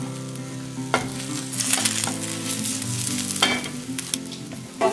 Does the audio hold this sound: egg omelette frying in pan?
yes